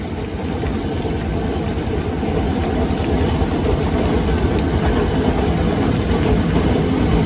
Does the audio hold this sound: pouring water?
no